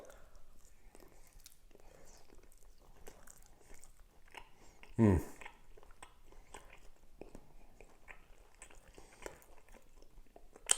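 Someone bites into an Irn-Bru glazed chicken lollipop from the barbecue, giving one brief, close crunch around the middle, then quiet chewing in a low, hushed background.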